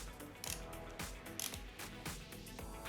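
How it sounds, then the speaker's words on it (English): A ratchet clicking on a Linus Tech Tips screwdriver, with a faint, steady run of small mechanical clicks under a noisy background. "It's tightened enough for the ratchet to work."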